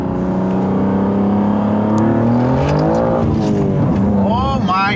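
A BMW G87 M2 on new tires and beadlock wheels pulls hard in second gear, its loud engine note climbing steadily in pitch, then a quick shift or lift with rising tones layered near the end.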